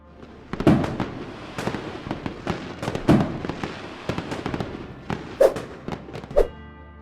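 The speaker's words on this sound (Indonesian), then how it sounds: "mengadakan pesta kembang api virtual yang gak kalah menarik" New Year's Eve fireworks pop and crackle in scattered bursts, several sharp booms at a moderate distance with a steady low rumble between them.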